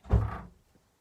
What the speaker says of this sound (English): the draft just blew a door shut downstairs